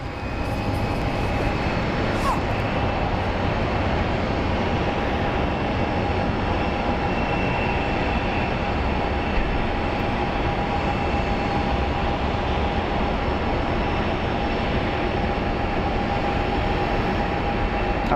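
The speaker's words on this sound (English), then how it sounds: "It's an Airbus A321." Airbus A321 airliner arriving at Phoenix Sky Harbor airport, a steady, loud, broad engine roar that stays constant throughout with no talking.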